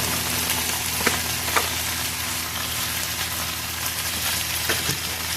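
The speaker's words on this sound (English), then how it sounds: "And so we're going to give this a little mix" Beef stew mix and au jus seasoning being stirred in a slow cooker, a steady hissing, scraping mix with a few soft taps of the spoon, close and continuous with no talking.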